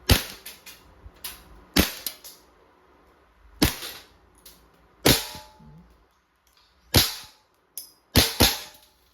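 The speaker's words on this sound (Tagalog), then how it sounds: "Testing KWC P08 airgun pistol, Tagalog blowback. And firing." A KWC P08 airgun pistol with toggle-lock blowback fires about eight sharp, snappy shots at irregular intervals, some in quick pairs, each a crisp metallic crack with quiet pauses between.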